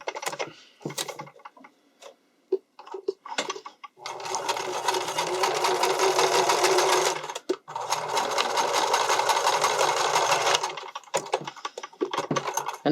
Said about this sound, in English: you're just going to straight stitch it within that serger line